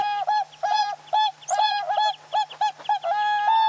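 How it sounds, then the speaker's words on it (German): Swans in the Russian tundra give repeated loud, clear, honking bugle calls in quick succession, close by and with no other voices. "die größten und schönsten Vögel der Tundra, die Schwäne."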